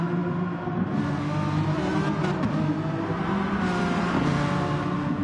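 A Renault Megane race car drifts around a Kyoto circuit in a racing game, its engine revving high and steady with tyre screech swelling through the corner, loud and continuous with no talk.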